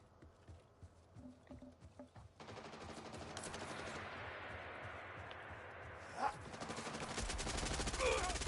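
Gunfire from a weapon in Borderlands 4, faint at first, then a sustained stream of rapid shots with a sharp louder crack, growing denser toward the end.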